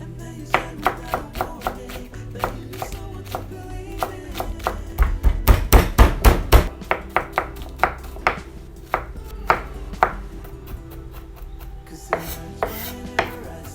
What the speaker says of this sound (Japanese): であと麻婆豆腐用の香味野菜を切っていきます。